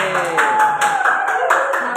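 A group of junior high school students claps together in quick rhythmic bursts while voices and a whistle-like tone carry over the top.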